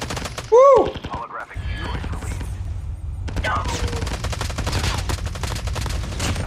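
Rapid gunshots from a Call of Duty: Warzone match, a steady stream of closely spaced shots running for several seconds at fairly close range, with a short burst of speech near the start.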